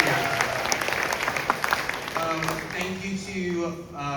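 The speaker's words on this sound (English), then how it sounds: "Can we get a round of applause for those people?" An audience at a South Carolina region band event at Goose Creek High School applauds, a sustained crowd of hands clapping under ongoing talk, with a voice speaking near the end.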